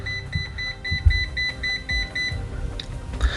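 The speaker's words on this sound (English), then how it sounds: "So high current alarm after the 10 amp." A UNI-T UT60BT multimeter sounds its high current alarm above 10 amps, a regular train of short, thin, high-pitched beeps repeating steadily, then stopping, with faint handling noise below.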